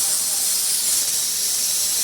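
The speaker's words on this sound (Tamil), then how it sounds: "விசில் வந்துருச்சு, 2 விசில் வந்துருச்சு." A pressure cooker vents steam while a country chicken curry cooks, giving a continuous loud, close hiss that holds steady without a break.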